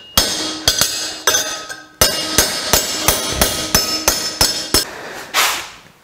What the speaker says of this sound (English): it's going to be easier to hit it with a hammer and form it the rest of the way